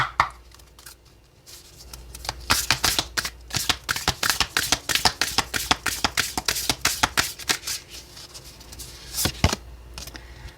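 A deck of oracle cards is shuffled by hand in quick, dense riffles and flicks, close and crisp, building into a steady fast rhythm that runs for several seconds before it slows and tapers off, with no talking.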